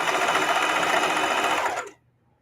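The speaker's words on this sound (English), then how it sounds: "So now I'm sewing this top back on, and the top to the bottom with a little wider seam." A sewing machine stitching a wider seam joining the top and bottom of a pillowcase, a fast steady whirring rattle close up that stops abruptly near the end, leaving near silence.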